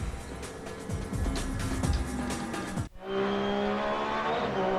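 The Red Bull Brumos Porsche race car roars along under lights at Daytona in the Brumos Porsche 250, loud engine noise with gear shifts, then a sudden cut to a steady, high-revving onboard engine whine.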